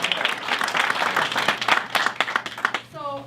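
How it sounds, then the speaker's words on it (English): Audience at a youth entrepreneurship event clapping in a burst of applause, dense at first and thinning out, with a voice speaking over the end. "That deserves another applause."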